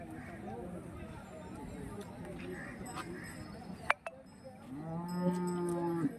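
Bulls at a live cattle market in Hirapur. Near the end a bull gives one long, deep, resonant low, close and loud, after several seconds of someone talking over the busy market background.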